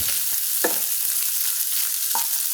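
Potatoes and scallions fry with a constant bright sizzle in a pan, broken by two distinct scraping stirs of a utensil, close and steady, with no voices.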